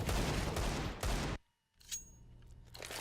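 A Desert Eagle fires in Counter-Strike: Global Offensive as a burst of loud, close gunfire. The shots break off into a brief silence, then fainter game sounds follow.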